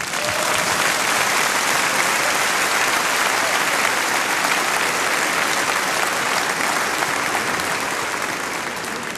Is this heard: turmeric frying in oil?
no